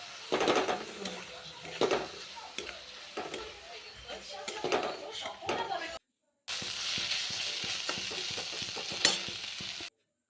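Fried onion with garlic and ginger paste sizzles in a pan, with bursts of stirring and scraping, a short gap and then a steadier hiss, no clear talk.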